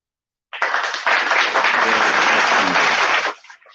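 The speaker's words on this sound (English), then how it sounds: "Can we get a round of applause for Northwest Rider?" A crowd breaks into loud, dense applause at a live show, clapping starting abruptly, holding steady for nearly three seconds and then cutting off quickly.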